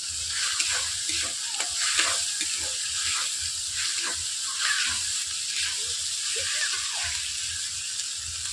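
Flattened rice and green chillies stir-fried in a hot pan: a steady bright sizzle runs throughout, with soft scraping and stirring clatters scattered over it, close and moderately quiet.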